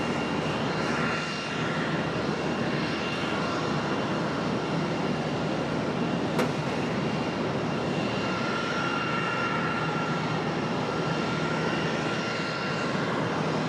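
An American Airlines A320 jet airliner arriving at Charlotte after a flight from Destin–Fort Walton, its engines a steady, loud broadband roar that holds evenly throughout with no voices.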